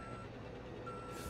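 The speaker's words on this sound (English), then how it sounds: "You can turn the backup beeper on or off, but you can't adjust its volume" A truck's reversing beeper in Euro Truck Simulator 2, a steady high electronic tone sounding over a constant low engine drone, quiet and continuous throughout.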